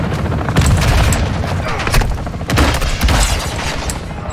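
Gunfire and explosions in the Call of Duty DMZ video game, with repeated loud shots and heavy booming blasts at an irregular pace, punctuated by sharp cracks and crashes in a chaotic firefight.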